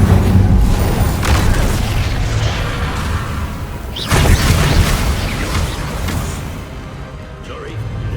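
An Incendio fire spell in Hogwarts Legacy on PS5, loud booming blasts and bursts amid game combat, with a sharp hit around the middle and a rumbling tail, while voices shout over the action.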